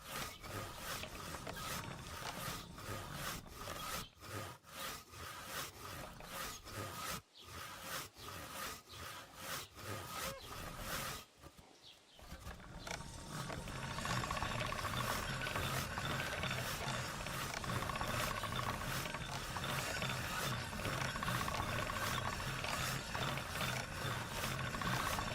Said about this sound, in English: Move the blade weapon around spinning wheel by maintaining the correct angle.